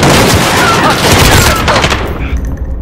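Loud, dense gunfire in Call of Duty: Modern Warfare Hardpoint multiplayer, with rapid overlapping bursts and booms running throughout before thinning out at the end.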